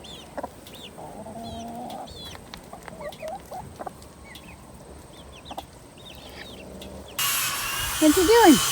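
A new chicken clucks in short, scattered calls on a farm, close by, with people talking around it and a louder rustling burst near the end.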